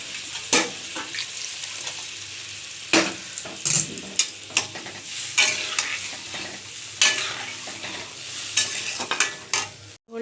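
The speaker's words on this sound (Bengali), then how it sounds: "ঝোলটা ফুটছে" Potato and taro fish curry, thinned with hot water, bubbling in a pan over a gas flame, with steady sizzling broken by repeated sharp clinks of a spoon stirring against the pan.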